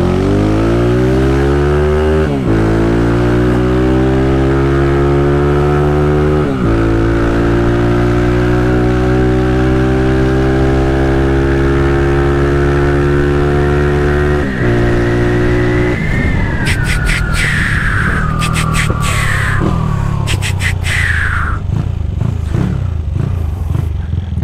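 A Honda CG Titan 150 motorcycle, a single-cylinder bike with altered gearing, accelerates hard through several gears in the city, its revs climbing and dropping at each shift before it eases off with clattering; loud and close, no talking.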